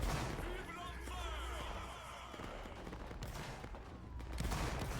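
Distant gunfire in a video game battle, scattered shots and volleys heard faintly beneath steady background noise, with a voice calling out orders over the top.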